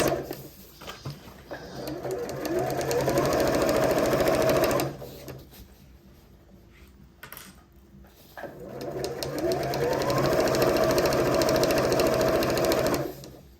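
A sewing machine stitches a holdall past one of its straps, running in two long steady bursts separated by a quiet pause of a few seconds.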